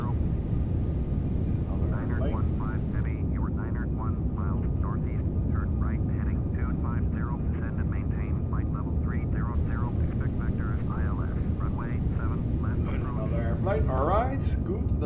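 Simulated Boeing 757-300 jet landing at Palma de Mallorca, a steady engine and airflow roar throughout with someone talking over it.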